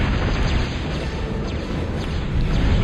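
Rocket explosions in the real-time strategy game Total Annihilation, a dense run of booming bursts and crackling impacts rolling on continuously at fairly high level, with no voices.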